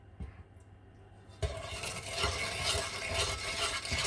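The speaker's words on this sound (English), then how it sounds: "Set your stove on medium heat and start mixing." Custard powder, sugar and milk being stirred in a pan on a medium-heat stove, a soft continuous scraping swish that picks up and grows steadier after a quiet start, with small clinks along the way.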